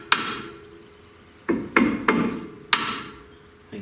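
Gentle hammer taps seating powder-coated front brake parts during a big brake install on a V8 Crossfire, a single tap followed by a loose cluster of four light, close knocks with pauses between.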